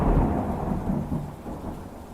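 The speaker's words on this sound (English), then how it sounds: "Thunder rumbles." Low thunder rumbles heavily, loudest at the start and slowly rolling away, with a faint hiss of rain underneath.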